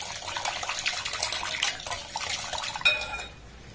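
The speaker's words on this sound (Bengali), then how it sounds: "এবার এখানে দিয়ে দেবো হাফ বাটি গরম লিকুইড দুধ" Hot liquid milk, half a bowl of it, poured into a bowl while making a soft eggless Christmas cake, gives a close, steady splashing stream with faint clinks of kitchenware that ends in one sharp clink.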